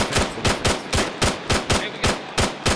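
Rapid bursts of automatic gunfire in the ArmA 3 military shooter, a steady rhythm of loud, close shots about five or six per second with no talk over them.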